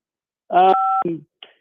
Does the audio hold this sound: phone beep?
yes